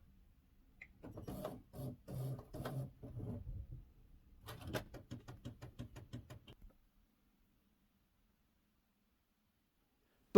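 A Brother inkjet printer runs a test page in a quiet room, giving short bursts of rhythmic mechanical whirring and stepping from the printhead carriage, then a patter of quicker clicks before it falls silent.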